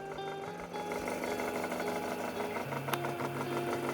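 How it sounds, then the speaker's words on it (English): Electric motor running steadily in a prototype generator, a continuous even buzzing hum with a mechanical pulsing texture, fairly quiet and alone. "when we turn off the switch, the motor stops receiving electrical current and the system stops"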